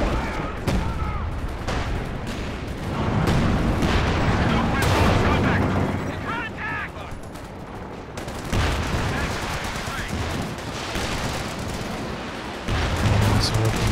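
Rocket artillery barrage in the real-time strategy game Company of Heroes 2 during a 2v2 match, dense rumbling explosions and scattered gunfire layered over continuous battle noise, loud throughout, with a commentator talking over it.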